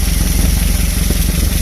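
Close and loud, a Volkswagen Baja engine with dual Weber IDF 48 carburetors idles in a steady, throbbing rumble with a faint mechanical clatter, heard alone.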